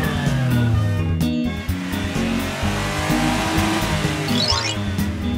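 Cartoon SUV driving with a revving engine, squealing tires and skidding noises, loud and continuous, with a brief sharp break partway through and some bright effects near the end.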